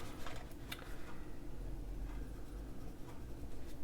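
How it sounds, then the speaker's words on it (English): A pen or pencil drawing a trim line across paper, a soft steady scratching with faint ticks, close and quiet, no voices. "So I'm going to make a line where we need to trim it."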